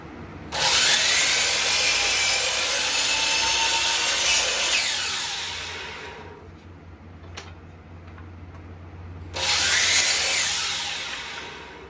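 A power saw trims scrap wood pieces for a Rockler box joint jig, running in two loud bursts: a long cut of about six seconds, a quiet pause with a faint click, then a second cut starting near the end.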